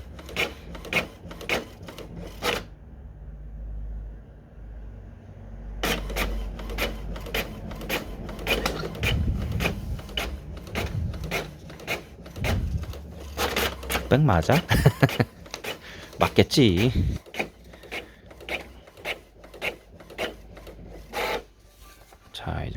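An HP inkjet printer runs a print job, its carriage rasping and clicking in bursts with a short pause partway, while a person talks briefly nearby.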